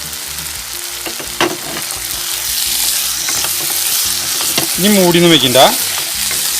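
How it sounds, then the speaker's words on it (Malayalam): Squid roast fries and sizzles in a hot pan while it is stirred, a dense, steady crackle with scraping strokes, and someone speaks briefly over it. "നമുക്ക് ഒരു 2-3 മിനിറ്റ് കൂടിയും ഒന്ന് ഫ്രൈ ചെയ്യാം"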